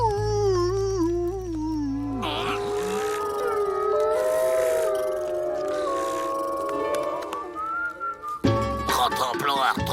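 Cartoon dogs howl on the trail in a long wavering chorus, several drawn-out sliding howls overlapping and rising and falling, with a brief break near the end before a fresh burst of howling.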